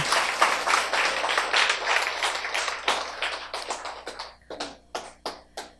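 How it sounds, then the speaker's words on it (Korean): An indoor audience claps to welcome a speaker, dense applause at first that thins out into scattered, separate claps and dies away. "박수로 맞이해 주세요"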